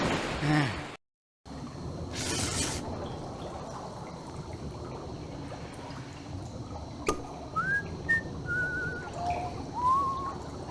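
In the Down in the Dumps video game, a short whistled tune plays as a string of clear, rising and falling notes after a few seconds of quiet ambient background and a burst of noise.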